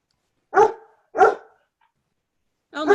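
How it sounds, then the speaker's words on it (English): A dog barks three times, sharp and close, with short pauses between the first two barks and a longer gap before the third; no one talks over it. "are you guys hearing my dog bark?"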